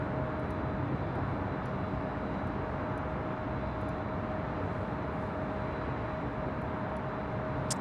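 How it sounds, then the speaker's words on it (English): A Qatar Cargo jet taxiing toward runway 25 left at LAX gives a steady, even engine rumble and whine, with a thin constant tone running through it. It is moderately loud and continuous, heard alone with no talk. "Qatar Cargo Flight 8910. Looking like she's heading over to 25 left for a departure there on the south side."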